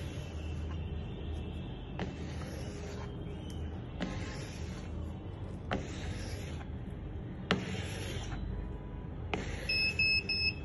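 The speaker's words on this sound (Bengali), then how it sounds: "পার্কিং ফুল, অ্যালার্ম দিয়েছে" The alarm of an IoT smart parking system sounds when the lot is full: a buzzer beeps in a steady pattern roughly every two seconds over a continuous background hum.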